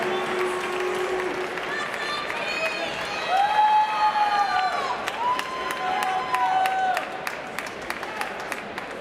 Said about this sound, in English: With that nice round of applause for these individuals and their accomplishments in this high honor.